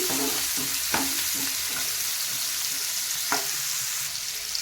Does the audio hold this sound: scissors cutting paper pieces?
no